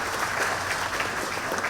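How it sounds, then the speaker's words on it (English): Brief, steady clapping from a school audience at an elementary school Veterans Day program, dense and continuous with no talk. "So round of applause for everybody who helped make this a success."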